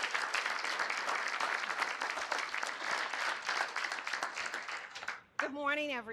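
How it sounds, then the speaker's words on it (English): An audience at a panel event gives a lively round of applause that fills most of the moment, dense and continuous, before it fades out and a voice begins speaking. "So ladies and gentlemen, please a round of applause for Miss Darlene Drew."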